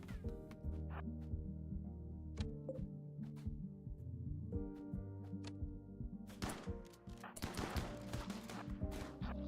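Chain shotguns firing in RimWorld during a fight with cultists: quiet, tiny clicking shot bursts pepper a steady musical drone, getting busier and louder toward the end.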